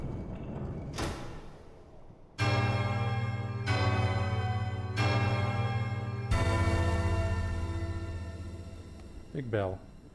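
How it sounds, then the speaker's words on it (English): A big bell rings in the Hollow Knight: Silksong video game, struck three times in a slow, even rhythm with long, loud metallic tones that sustain and overlap. A fourth ringing strike follows, ending in a brief sweeping sound effect. "Big bell."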